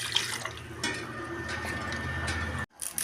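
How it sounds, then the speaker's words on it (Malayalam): A continuous stream of water pouring into a pot of chicken curry, fairly close, cutting off abruptly near the end. "വെള്ളം ചേർത്ത് കൊടുക്കാം"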